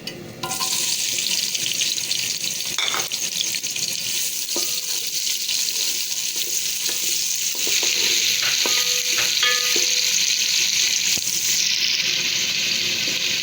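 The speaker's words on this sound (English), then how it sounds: "we will heat up the oil and then we will fry the onions" Onions fry in hot oil with a continuous loud sizzle and crackle, with occasional faint clinks and stirring sounds close by.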